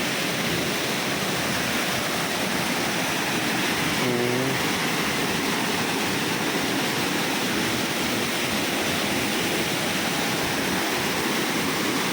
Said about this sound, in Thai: นี่เป็นถ้ำใต้น้ำตกนะฮะ